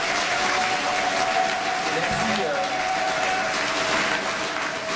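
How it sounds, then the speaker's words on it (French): Loud, dense audience applause at a municipal election campaign speech in Asnières in 2014, a continuous roar of clapping from a large crowd with murmured voices underneath. "applaudissez-vous vous-même"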